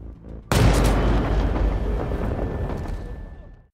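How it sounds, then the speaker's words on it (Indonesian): After a moment of quiet, a loud burst of gunfire and booming blasts from a film gunfight erupts, rumbling continuously before cutting off abruptly. "Hingga seketika terjadi aksi baku tembak yang sangat epik"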